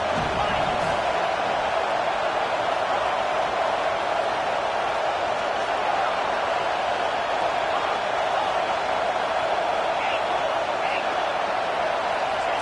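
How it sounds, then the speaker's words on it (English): A football stadium crowd roars steadily through a defensive third down, a dense, sustained wall of cheering that stays loud and even throughout with no break. "Decibels rising as the crowd gets behind this defense on third down."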